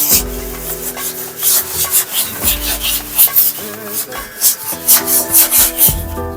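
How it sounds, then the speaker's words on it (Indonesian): Sandpaper is rubbed by hand over a fiberglass swimming pool shell before a gasket is fitted, giving close, rhythmic scratchy strokes in quick repeated passes with brief pauses between them. "jadi sebelum dipasang gasket, diamplas biar gasketnya terpasang."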